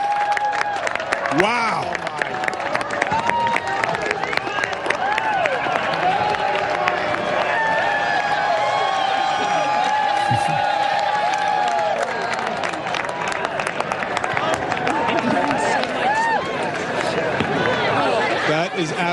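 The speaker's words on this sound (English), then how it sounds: "As it passed totality, this crowd just erupted." A crowd watching a total solar eclipse in Oregon cheers and claps in a sustained roar, with voices talking and exclaiming over it throughout.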